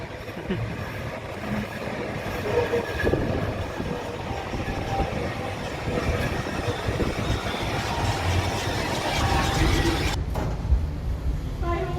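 A Blackpool Standard 147 tram rumbles along steadily with rattling wheels and clanks, close by and continuous, with faint voices now and then in the background.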